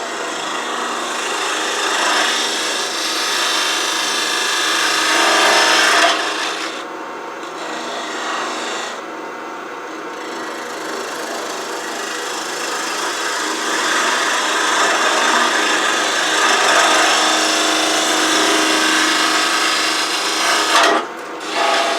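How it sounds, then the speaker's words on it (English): A half-inch spindle gouge cutting cherry wood turning on a lathe for a fluted bud vase, producing a loud, continuous rasping cut with brief pauses as the tool lifts off, and no talk. "I'm going to go ahead and switch to a 1/2 inch spindle gouge again."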